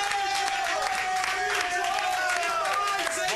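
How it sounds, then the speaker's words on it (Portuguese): Studio audience clapping and cheering on a Brazilian TV show, steady dense applause filling the whole moment with voices mixed in. "vamos receber ele então com uma salva de palmas, o Fagner, por favor."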